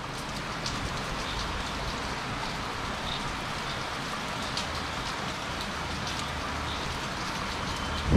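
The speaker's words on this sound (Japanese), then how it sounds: "急に土砂降りになった。" A sudden heavy monsoon downpour pounds a homestay backyard and vacant lot in South India, a dense, steady roar of rain that stays loud and unbroken throughout with no voices.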